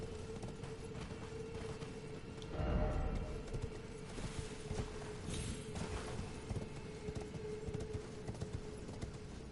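A horse gallops in the Elden Ring video game, rapid hoofbeats clattering over a dense, noisy game soundscape, with a heavy thud near the start.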